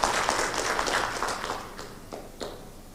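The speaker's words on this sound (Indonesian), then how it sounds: "Sekali lagi coba tepuk tangan untuk mahasiswa ya." Applause for nursing students at a university nurse pinning and oath ceremony, a soft, fairly distant patter of clapping that thins out into a few scattered claps.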